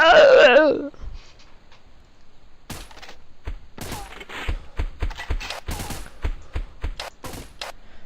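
Gunfire from a weapon in the video game BeGone: sharp separate shots, some in quick bursts, fired at an irregular pace after a short loud electronic sound at the start.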